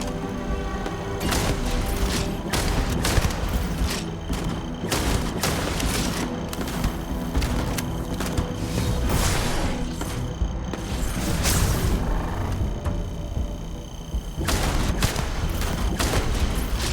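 Dense, sustained gunfire in the Starfield video game, a relentless barrage of overlapping shots and booming impacts, loud and close, with barely a pause across the whole stretch.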